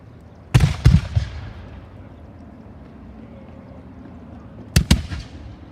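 Eighteenth-century artillery cannon firing at a Fort Ligonier battle reenactment, two sharp heavy booms a few seconds apart, each a close double report with a rumbling tail, no talking.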